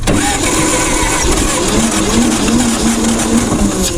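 Old vintage forklift engine cranking and catching, a loud, steady roaring engine running close by with a wavering tone as it struggles to stay lit.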